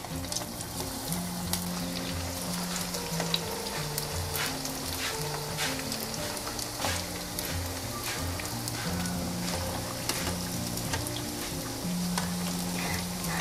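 Shrimp donut fish cakes deep-fry in hot oil over medium-high heat, giving a steady, close crackling sizzle with brief pops and occasional stirring clinks, no voices over it.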